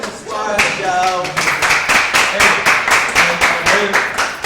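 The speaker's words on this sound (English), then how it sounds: "More clapping so the ratings can go up, please." A room of people claps at an LGBT youth agency event, with rhythmic, fairly even handclaps swelling into a steady patter over several seconds, close and lively. A voice speaks briefly at the start.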